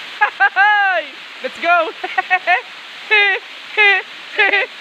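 A waterfall in Barangay Angeles, Atimonan, Quezon, pours with a steady, even rush of water that runs under frequent nearby talking throughout.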